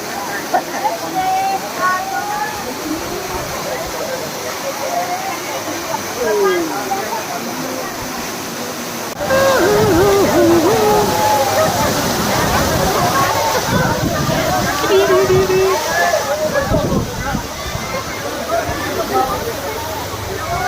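Dudhsagar Falls in Goa roars as a steady broad rush of falling water, with crowd babble and voices talking over it throughout.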